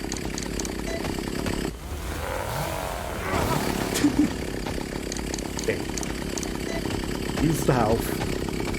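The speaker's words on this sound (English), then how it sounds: "Whilst I'm dealing with the chainsaw man." Chainsaw of a chainsaw-wielding enemy in a horror video game, a continuous buzzing, revving drone that surges and drops, with a person talking over it.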